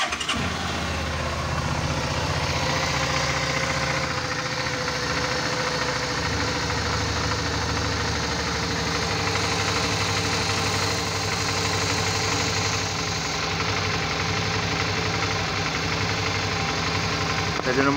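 A Suzuki DL 650 V-Strom motorcycle, said to have a clogged high-pressure fuel filter, idles with a steady rumbling engine note throughout, while someone speaks over it.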